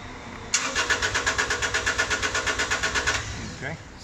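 A NiftyLift lift's engine cranking without firing up. The starter turns over in a steady, even rhythm of about twenty close, loud pulses for nearly three seconds, then stops with no catch.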